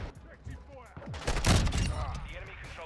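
Intervention sniper rifle fire in the video game Modern Warfare 2, a loud crack around the middle of the clip among busy gameplay sounds and other shooting.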